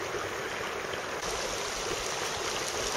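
A mountain stream runs steadily into a small pond below, its broad continuous rushing hiss close and unbroken with no voices.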